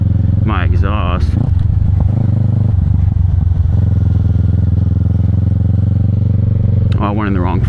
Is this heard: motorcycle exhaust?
yes